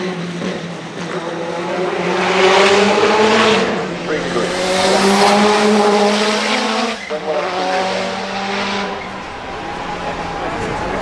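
An 850 hp Toyota Celica T200 race car with a 2.1-litre TRD turbo engine roars loudly up close, rising and falling through revs with tire squeal and a brief lift near the middle before pulling hard again.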